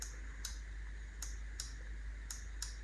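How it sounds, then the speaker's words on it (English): Instant triggers on a Scuf Reflex FPS controller for PS5 clicking in short, sharp mouse-like taps, about six crisp clicks spaced unevenly over a few seconds against a quiet background. "Just listen to how satisfying the triggers sound."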